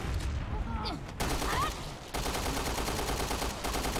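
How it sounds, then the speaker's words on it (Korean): SMG gunfire in the video game Resident Evil Revelations 2 rattles in short bursts that settle into steady, rapid repeated shots, loud and close, with a voice briefly audible over the shooting. "SMG 샷!"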